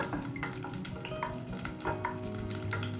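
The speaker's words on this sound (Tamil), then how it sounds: "நல்லா வதக்கி விட்டுக்கோங்க" Cashews and almonds fry in a pan for payasam, giving a soft, steady sizzle with faint stirring scrapes and light clinks throughout.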